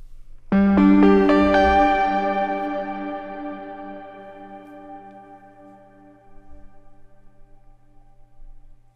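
A synthesizer chord hits sharply and then fades slowly through a smooth, long-tail reverb, its ambient wash ringing on for several seconds with no one talking.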